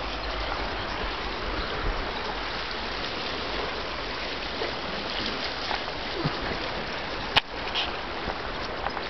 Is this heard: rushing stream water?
yes